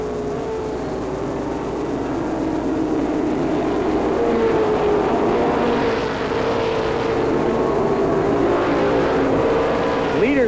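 Pro stock race cars circle Lee Speedway in 1989, a steady blend of engine drone rising and falling as cars pass, moderately loud and slightly distant, with a race announcer's voice faintly mixed in.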